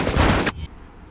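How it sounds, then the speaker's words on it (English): A loud burst of rapid gunfire in the video game Spider-Man 2 (2004) rattles for about half a second, then cuts off, leaving a faint low hum. "I just heard gunshots!"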